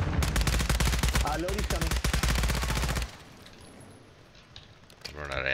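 Rapid bursts of automatic gunfire in Call of Duty Modern Warfare 2 Warzone Resurgence quads fill the first three seconds, loud and continuous, then give way to quieter game ambience as a player speaks briefly.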